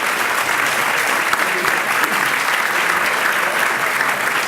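Dense, even applause at a leadership awards dinner, given for a quartet that has just finished playing. A full room claps loudly and steadily with no break.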